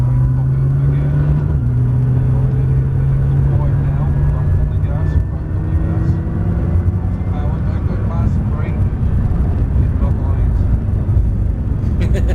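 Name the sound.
car V6 engine whistle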